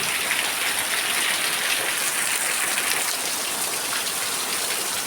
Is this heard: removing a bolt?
no